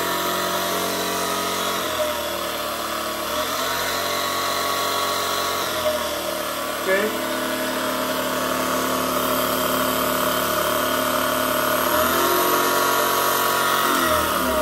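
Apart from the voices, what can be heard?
homemade fuel-less generator with alternator running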